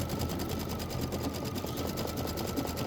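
An embroidery machine stitching an outline around poinsettia designs hums in a fast, even, continuous whir, loud and close, with no voices.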